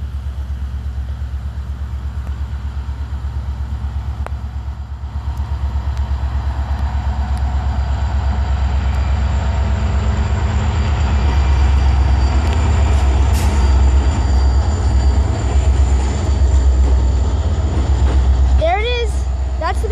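A Belt Railway freight train led by three locomotives rumbles past close by in the rain near Chicago, a loud, continuous roll of wheels and cars with faint squeals, while a voice talks over it.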